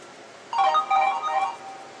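A mobile phone ringtone plays a short, bright melodic chime, loud and close for about a second, then fades as the ring repeats more softly.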